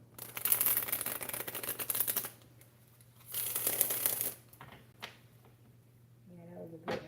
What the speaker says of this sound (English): It's hard to shuffle these damn cards.